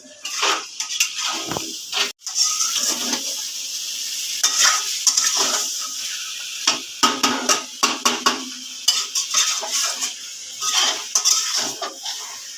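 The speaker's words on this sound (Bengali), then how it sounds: "এই তো কষানো হচ্ছে।" Chicken curry is sautéed in a pan with a loud, close sizzle, while a utensil scrapes and clatters against the metal in quick, irregular strokes. No one speaks.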